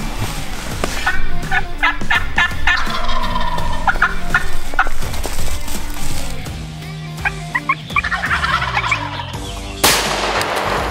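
Eastern wild turkeys gobble repeatedly in an outdoor hunting setting, several loud rattling gobbles overlapping with other bird calls, without talk, and a sharp gunshot-like crack near the end.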